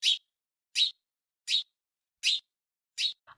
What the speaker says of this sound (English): The sparrows chirped,